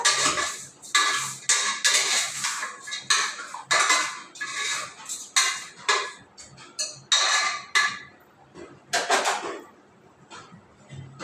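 A spoon scrapes and clanks against a metal pot while stirring mutton pieces with salt and turmeric, in repeated close strokes separated by brief pauses.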